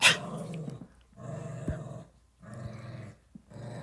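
A dog growls in three low, sustained rumbling bouts with short breaks between them, close and fairly loud, with no talking.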